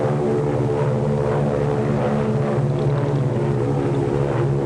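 Propeller search planes from an Army attack squadron landing, a steady droning engine roar with strong harmonic hum, loud and continuous throughout without a break.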